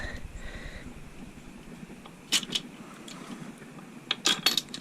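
Metal bearing cap on a small block Chevy engine being wiggled loose with two bolts, giving a few sharp, close metallic clinks and rattles in bursts over a faint background hum.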